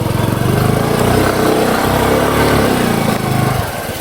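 A parked motorcycle's engine runs steadily and loud by a riverside swimming spot, a continuous close mechanical drone that eases slightly near the end.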